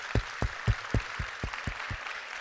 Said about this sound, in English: I would like to give an applause to everybody who is here.